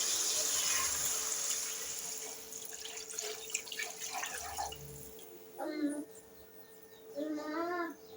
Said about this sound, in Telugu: ఒక గ్లాస్కి 2 గ్లాసులు వాటర్ అయితే పోస్తున్నాను